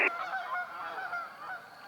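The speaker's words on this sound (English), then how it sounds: "And geese." Several geese honk in flight outdoors in Indiana at sunset, a string of nasal calls at moderate distance that carry on steadily over quiet background.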